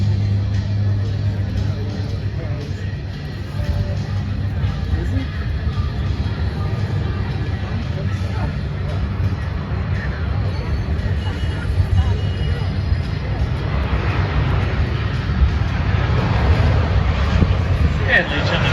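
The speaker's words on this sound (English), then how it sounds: "As we watch coming overhead, we do have the mighty P-8 Poseidon, United States Navy's premier maritime patrol reconnaissance aircraft" A US Navy P-8A Poseidon maritime patrol jet passes overhead at an air show, a loud, steady broadband roar that builds slightly toward the end, with voices faintly present beneath it.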